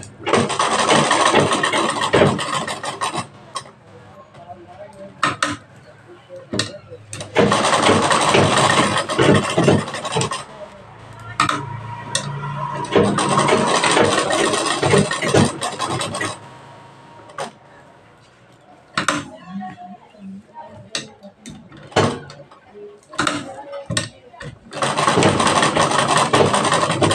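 A sewing machine stitches a blouse in loud, steady running bursts that stop and start several times, with short pauses and faint handling clicks between runs of stitching.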